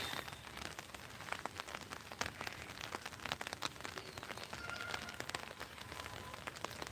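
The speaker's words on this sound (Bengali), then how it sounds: "বৃষ্টিটা আগের মতো অতটাও জোরে হচ্ছে না টিপটিপ করে হয়ে যাচ্ছে" Light drizzle falls on a rooftop among wet plants, a faint continuous patter with scattered small droplet taps, quiet and with no one talking.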